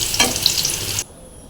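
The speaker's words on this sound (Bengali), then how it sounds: "তো এইভাবে ভেজে পেঁয়াজ বাটা, আদা বাটা, লঙ্কা, একটুখানি রসুন, জিরা বাটা" Paste of onion, ginger, chilli, garlic and cumin sizzles loudly in hot oil for about a second, then cuts off abruptly to near quiet.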